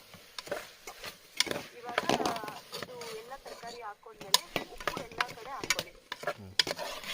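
Vegetables and potatoes fry in a pan at a campsite, with irregular close scrapes, clinks and stirring knocks over a low sizzle while a person talks intermittently.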